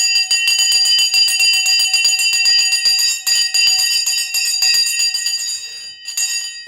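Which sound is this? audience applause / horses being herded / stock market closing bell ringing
stock market closing bell ringing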